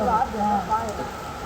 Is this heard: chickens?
no